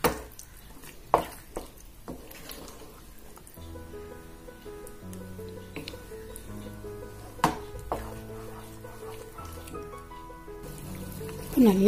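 A spoon stirs Bombay halwa with ghee in a pan, giving soft, steady scraping and sticky, wet stirring sounds that run close throughout, with a few sharper knocks against the pan and music playing underneath.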